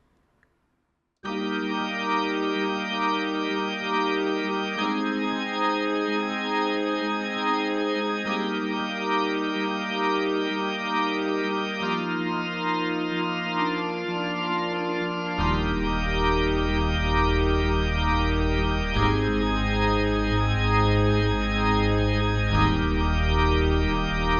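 Sustained keyboard chords, piano with a held organ tone, move through the slow bridge progression of a song, and a deeper, fuller bass layer joins partway through.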